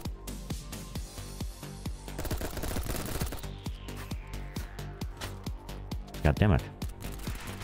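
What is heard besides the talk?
gunfire in the video game BattleBit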